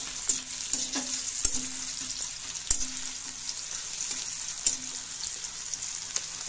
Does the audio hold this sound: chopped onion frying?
yes